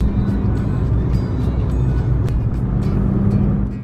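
A car drives along a country road in Mallorca, heard from inside as a steady low engine and road rumble with faint ticking clicks, loud and continuous without speech.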